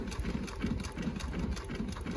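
A JUKI LU-1510N-7 walking foot industrial sewing machine runs with a steady rapid mechanical chatter and pulsing motor hum, close and moderately loud.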